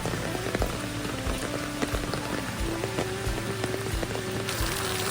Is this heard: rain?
yes